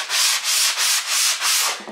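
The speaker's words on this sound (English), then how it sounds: "So I'm just going to go ahead and take my sanding block just real quick" A sanding block rubs back and forth over wood coated in homemade chalk paint, five steady rasping strokes in an even rhythm, close and alone.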